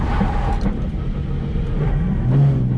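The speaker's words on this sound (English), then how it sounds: "get up to about 30 miles per hour, put on the clutch, and pull the e-brake" A car engine running steadily at moderate revs as the driver clutches in and pulls the e-brake to start a drift, a loud continuous drone with slight shifts in pitch and no talking.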